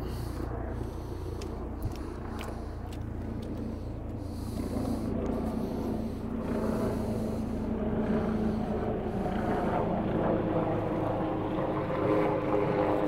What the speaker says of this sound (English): I can hear a helicopter coming.